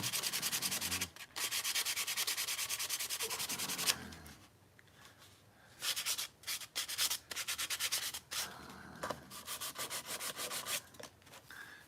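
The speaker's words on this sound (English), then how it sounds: "I need the rougher sandpaper to." Sandpaper rubbed back and forth over a small hobby model of a Mars lander, giving loud, close, rhythmic scratchy strokes with brief pauses between bursts, no voices.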